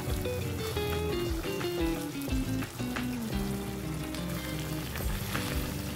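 Spicy Bengali bahari chicken sizzling and frying steadily in a hot pan while the meat is stirred, giving a loud continuous crackle with occasional scraping knocks and music playing underneath.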